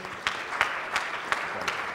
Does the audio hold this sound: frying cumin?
no